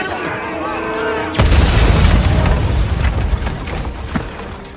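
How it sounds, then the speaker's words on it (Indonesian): A dynamite blast from a western cowboy film hits suddenly after a quieter stretch, opening into a loud, low boom with a long rumbling, crackling tail that fades slowly over several seconds. "lalu meledakkan dirinya menggunakan dinamit yang ia bawa, hingga mengenai seluruh pasukan Bogu yang tersisa"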